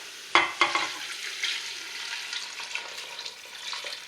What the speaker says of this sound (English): now we're going to add the stock